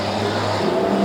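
Street stock race cars roar around a track with loud, continuous engine drone and a shifting pitch as they pass close by.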